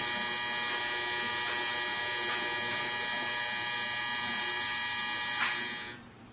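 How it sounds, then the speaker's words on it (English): A household clothes dryer runs steadily as a close, continuous mechanical hum and whir with a fixed tonal drone, winding down and fading out right at the end. "Sorry, that's just my dryer."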